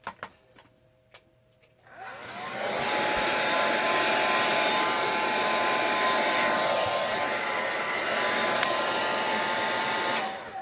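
A hair dryer drying a mixed media artwork switches on after a few light taps and then blows loud and steady with a constant whooshing hum before cutting off at the end.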